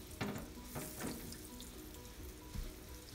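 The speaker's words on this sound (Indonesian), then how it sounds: "Kalau sudah panas, masukkan setengah bawang bombay" Half an onion sautés in a hot pan for beef teriyaki, giving a quiet, close crackling sizzle with a few soft stirring knocks.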